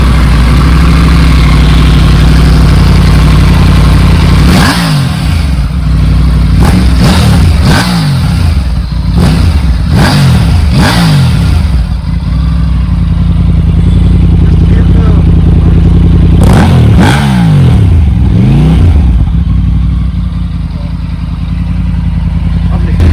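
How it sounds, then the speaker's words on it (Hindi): A Triumph Tiger 900 motorcycle engine idles with a loud, close exhaust note and is blipped through a series of sharp throttle revs that rise and fall, with a final cluster of revs near the end. "तो एग्जॉस्ट नोट."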